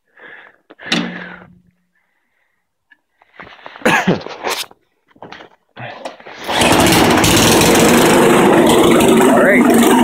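A 12-volt lawn mower engine rigged as a generator is pulled and coughs to life, then settles into a loud, steady running roar after a few brief bursts and handling noises.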